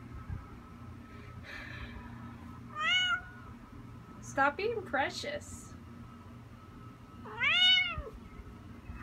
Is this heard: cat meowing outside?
yes